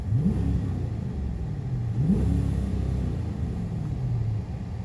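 A 2016 Dodge Charger R/T with a rev limiter around 4,000 rpm rumbles with a low engine note, blipping upward twice in quick revs over a steady idle, close and loud.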